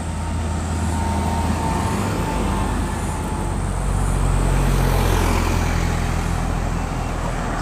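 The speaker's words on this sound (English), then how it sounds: "Here comes the tractor and slasher man." Tractor towing a slasher mower along Crosby Road in Ipswich, a loud, steady engine drone with rumbling low end, close by and building slightly as it passes.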